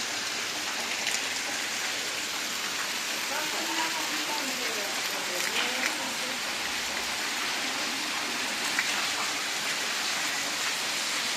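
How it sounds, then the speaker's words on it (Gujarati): Heavy late-monsoon rain in a Gujarat village falls in a dense, constant hiss, drumming on surfaces nearby, with faint voices underneath. "ભાદરવા મહિનાનો વરસાદ"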